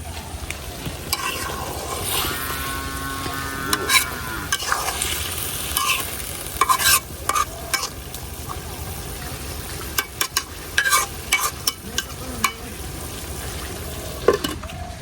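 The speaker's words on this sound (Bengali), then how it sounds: "এখন একবারের মতো লাড়াই দিলাম" Small pond fish with small potatoes sizzle and fry loudly in a wok on a lit stove, while a utensil scrapes and stirs with repeated close clanks and rattles throughout.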